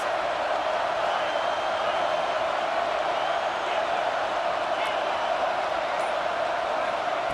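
Stadium crowd in the football video game EA Sports College Football 26, a loud, constant roar that fills the whole stretch without letting up.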